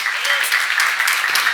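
A church congregation at a Korean sermon seminar claps together, a dense continuous patter of many hands sustained and fairly loud throughout, close by.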